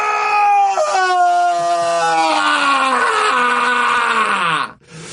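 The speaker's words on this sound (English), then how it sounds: "this is you practicing a scream that would be some kind of therapy to make you feel good" A man lets out a long, loud, strained scream practiced as a form of therapy, a sustained, wavering, tonal yell that falls in pitch before cutting off abruptly near the end.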